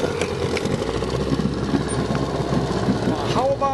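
A 1971 Johnson 9.5hp outboard motor on a boat runs with a steady, close engine drone after starting on the first pull.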